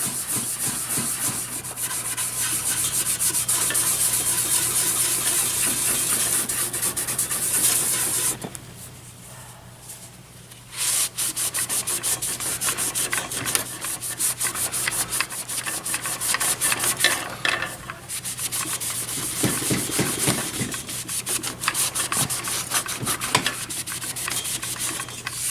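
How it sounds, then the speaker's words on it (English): Rag rubbing Brasso onto a metal chassis, giving a continuous scratchy scrubbing with brief pauses, close and moderately quiet. "We're gonna put a little Brasso on there."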